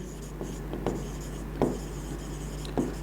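Chalk or marker strokes on a board during a maths lesson on differential equations, a steady scratchy scribble with a few sharper taps, close and moderately loud over low room hum, with no talk.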